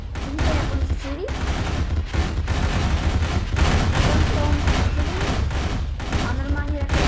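Gunfire fills a match of the video game Pixel Warfare. Dense, continuous shooting and battle noise roll on steadily throughout, with a voice talking faintly underneath.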